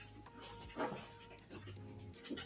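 A dog pants and gives soft whimpers close by, with short breathy bursts over a quiet indoor room and a steady low hum.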